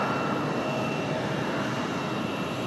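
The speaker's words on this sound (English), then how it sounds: "These APUs running are extremely loud." Aircraft auxiliary power units running at Raleigh Durham airport, with a CRJ jet nearby, making a steady, loud broadband roar and whine that holds constant throughout.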